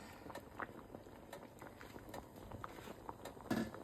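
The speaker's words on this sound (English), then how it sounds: "I turn it down to an actual simmer" Meat spaghetti sauce simmers gently in a pot, giving soft, irregular bubbling pops and plops at a low, steady level throughout, with a slightly louder burst near the end.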